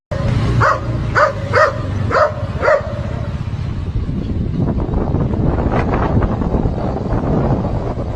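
A dog barks at a motorcycle courier: four or five sharp, loud barks in the first few seconds, then a rumbling wind buffet on the microphone fills the rest.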